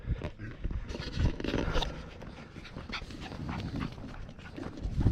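A terrier barks and whimpers in a series of short, fairly loud yelps and pants over steady background noise, with no talk.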